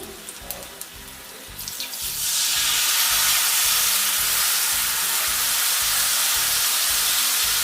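Water poured onto a hot tempering of oil and spices, with a few light clinks before a sudden loud, steady hiss of sizzling and steam that fills the rest of the clip.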